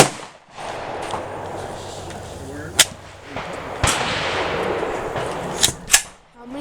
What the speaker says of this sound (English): How many shots did we shoot?